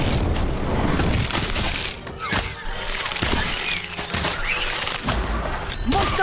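The Incendio fire spell goes off in the game Harry Potter: Magic Awakened during a loud, dense battle, with crackling blasts and bursts of impact following one another over background game effects.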